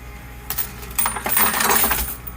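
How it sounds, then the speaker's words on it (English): Metallic clinks and jingles of many quarters cascading and clattering down in bursts in a coin pusher, building to a dense shower of coins before tapering off. "Quarters, scooping them up with your hand, and then falling off."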